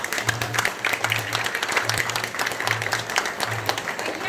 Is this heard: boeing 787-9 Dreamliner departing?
no